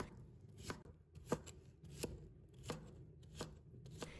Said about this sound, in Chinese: 最后切成青瓜丁。